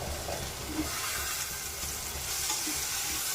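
Curry leaves and tomato frying in a pan give a steady, hissing sizzle with light stirring, close up and fairly quiet, with no voices over it.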